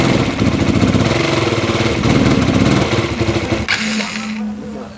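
A DKUE 200cc motorcycle engine revs loud and close as the throttle is twisted, with a fast pulsing rumble that swells and drops before settling back to a steadier idle.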